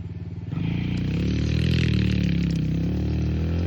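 Surron electric dirt bike on a motocross track, ridden hard past the berm: a loud, steady mechanical whine and rattling drivetrain that swells in after a quieter start and holds close and strong throughout, with no talk.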